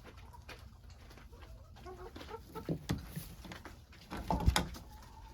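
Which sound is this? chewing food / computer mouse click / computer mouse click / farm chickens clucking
farm chickens clucking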